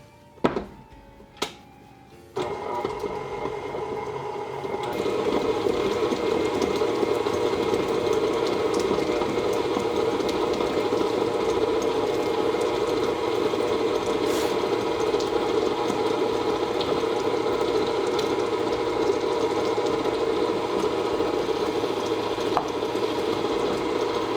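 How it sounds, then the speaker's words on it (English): Electric mixer beating butter and margarine for sugar cookie dough, a steady whirring motor drone starting after a few clicks and running continuously at close range. "All right, Phil, we're gonna start with butter and margarine. Let's mix that for about 30 seconds."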